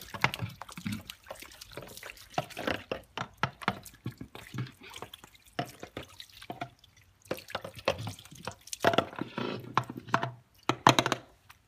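Water spraying and dripping off a car wheel rim during a final rinse, irregular bursts of splashing and trickling with brief pauses, close and fairly clear, no voices.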